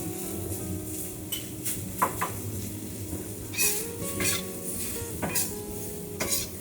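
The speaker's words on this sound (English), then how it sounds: "Be patient and stir fry more" Pork and mushrooms sizzle while being stir-fried in a pan, with a steady frying hiss and repeated scrapes and clinks of a spatula against the pan.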